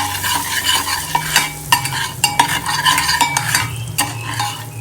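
Masala frying in butter in a pan, a bright crackling sizzle with repeated sharp scrapes and taps of a spoon stirring against the pan, close and continuous.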